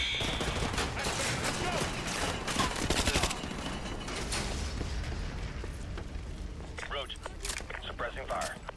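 Gunfire from a gun in Call of Duty: Modern Warfare 2 Remastered, rapid bursts of sharp shots with mechanical clatter, loudest mid-way, with a voice talking over parts of it.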